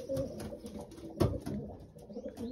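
A female racing pigeon hatched in 2020 coos in soft repeated low pulses at close range, with faint background rustle and no voices.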